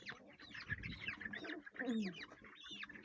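Chickens cluck and squawk inside a coop, several birds calling in quick overlapping bursts close by, with shuffling and movement underneath.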